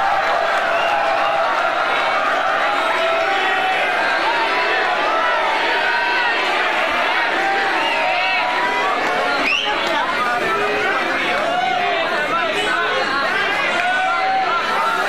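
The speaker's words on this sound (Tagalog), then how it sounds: "Hindi na mag-awat yung crowd" At a Fliptop rap battle, a dense crowd chatters and cheers without pause, loud and close, a thick wall of overlapping voices and yells for the full span.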